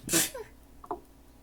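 A single sharp sneeze close by in a dusty space, a quick breathy burst, followed by a brief faint vocal sound.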